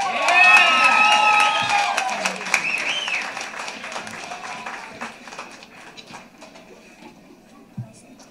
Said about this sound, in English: While we're passing around the applause